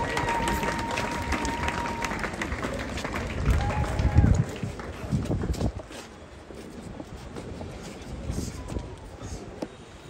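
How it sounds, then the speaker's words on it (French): A crowd at a national service ceremony applauds and cheers, with dense clapping that swells to a loud peak midway and then settles into a steadier, softer applause. "On acclame très très fort."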